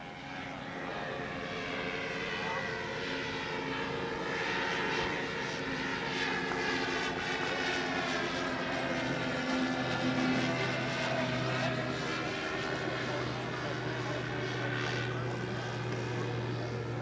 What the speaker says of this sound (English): Is that the jet going?